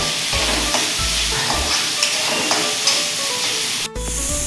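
Coriander leaves being sautéed in a pan for a bottle gourd (lauki) dish, giving a steady close sizzle with stirring scrapes throughout and a brief drop near the end.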